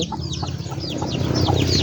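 A young rooster clucking in quick repeated bursts, close and clear, over a low background rumble.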